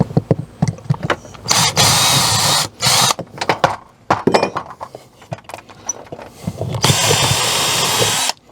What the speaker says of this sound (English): Drill a couple pilot holes for the lag bolts.